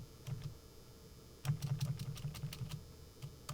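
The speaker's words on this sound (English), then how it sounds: "We'll do a find function on our keyboard for" Quick bursts of keystrokes on a computer keyboard as a search for a product number is typed, a few taps early then a rapid run of clicks, close and fairly quiet with no talking.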